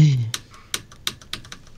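A computer keyboard is tapped in a few sharp, separate keystrokes at an irregular pace, close by, after a voice trails off at the start.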